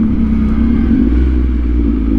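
A motorcycle engine runs loud and close on a road, a steady heavy rumble with a slight rev held through the whole moment.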